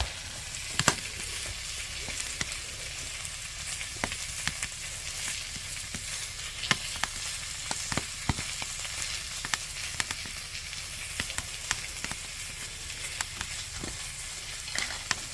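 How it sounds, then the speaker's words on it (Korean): Pork belly sizzles steadily on a cast-iron cauldron-lid griddle over a burner outdoors, a soft constant fry with scattered pops and crackles, close and fairly quiet, no voices. "지글지글 소리가 참 좋네요"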